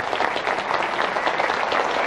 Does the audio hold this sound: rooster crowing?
no